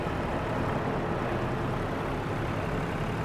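A steady mid-level engine drone from a vintage tractor in Farm Sim 25, idling continuously and evenly without pauses.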